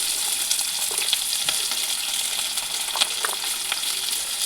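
Onions sizzling in hot oil with mustard seeds in a pan, a steady close frying hiss broken by scattered scrapes and clicks of stirring, no voices.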